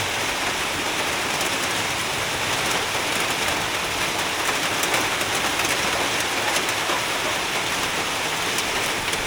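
Steady, heavy rain pours down in a continuous dense hiss, close and loud throughout with no voices.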